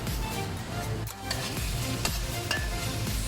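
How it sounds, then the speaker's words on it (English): Prawns and scallops stir-fried in a wok with Chinese wine for Buddha Jump Over the Wall: a steady close sizzle with a few scraping stirs and clinks of the spatula against the pan. "Stir fry the prawns and the scallops in the wok until the prawns turn reddish"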